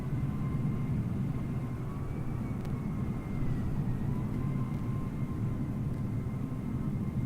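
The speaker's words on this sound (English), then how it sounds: "I can hear a plane taking off, or taxiing." A steady, distant engine drone from an airliner taxiing in Microsoft Flight Simulator, a continuous low rumble with a faint whine above it, holding level throughout and without speech.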